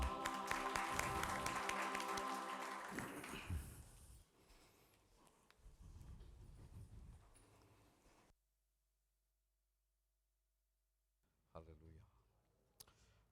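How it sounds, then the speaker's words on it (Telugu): A Telugu church congregation claps loudly together, blended with music and voices, for about four seconds before it fades. Talking follows, then silence. "మాస్టర్ గారిని చప్పట్లతో ఆహ్వానించుకుందాం."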